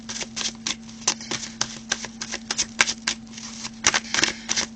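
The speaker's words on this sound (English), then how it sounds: "While shuffling the cards" Tarot cards being shuffled by hand, a close run of quick papery riffles and flicks in uneven bursts over a faint steady electrical hum.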